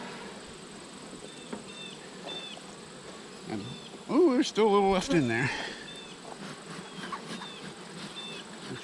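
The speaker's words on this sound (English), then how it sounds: "And it's full of bees." Bees buzz steadily inside a bee feeder, close and moderately loud, with someone talking over the hum.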